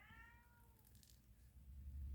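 A cat gives a single faint meow, followed by quiet room noise and a low rumble.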